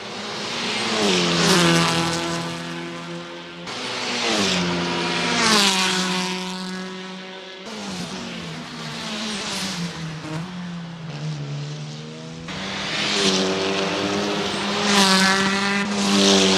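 A Hyundai Elantra N TCR 2024 touring race car in Assetto Corsa, racing in the wet against Audi and Cup cars: a loud, high-revving engine climbing through repeated gear shifts, dropping on lifts and braking, then screaming again, with no talk.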